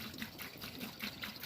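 Isopropanol alcohol tipped out of a rusty Yamaha QT50 moped fuel tank, a faint gurgling trickle with small rhythmic glugs and splashes, close and alone.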